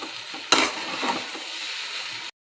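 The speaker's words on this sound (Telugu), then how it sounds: "ఇలా వేసుకున్న పోహాని కింద నుంచి పైకి, పైనుంచి కిందకి బాగా కలుపుకోవాలండి" Washed poha being tossed and stirred in a hot pan for upma: a sudden scrape-and-sizzle burst settles into a steady, close frying hiss for a couple of seconds, with no talking.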